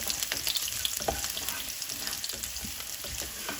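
Garlic sizzles in hot oil in a pan as a lentil curry is started, a steady crackling fry with occasional stirring scrapes, close and continuous.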